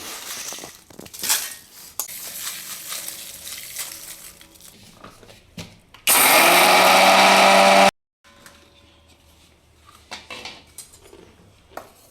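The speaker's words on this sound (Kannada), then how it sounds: "ದೊಡ್ಡ ಜಾರಲ್ಲಿ ಮಿಕ್ಸಿ ಮಾಡ್ಕೊತೀನಿ" A mixer grinder whirs loudly for a couple of seconds, grinding coriander seeds and spices in a large jar, surrounded by clinks and handling noises of jars and utensils before and after.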